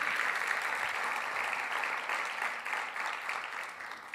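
An audience applauds musicians at a 2022 awards ceremony for a short-story contest in Magallanes, producing a dense, steady wash of clapping that stays loud and even throughout with no talk over it.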